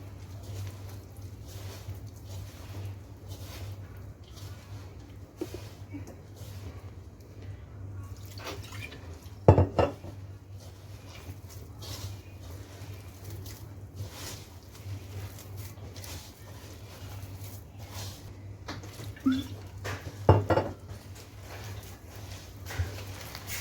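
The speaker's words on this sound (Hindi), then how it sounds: "अब इस ग्रेजुअली जो है वाटर ऐड करूंगी।" Water is poured gradually into a crumbly fenugreek (methi) paratha dough mix in a home kitchen, with faint dripping and trickling over a steady low hum and a couple of soft knocks.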